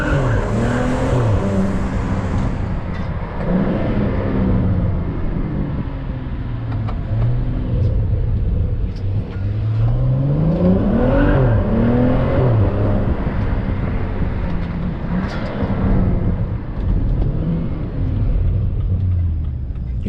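A car with a BMW N55 engine drives along, its steady engine rumble loud and close throughout, rising and falling with gear changes and acceleration after repairs for misfiring.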